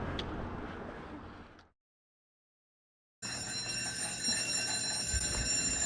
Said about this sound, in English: Here they got some smoke on the griddle and it's fire alarm time.